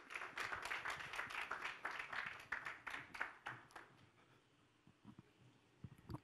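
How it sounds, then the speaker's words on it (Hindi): Stage audience at a Bollywood event with actress Bhumi Pednekar claps in a brisk burst of close hand claps, fading to scattered taps after a few seconds; quiet overall. "और उनके लिए तालियां हो जाए यहीं स्टेज पर।"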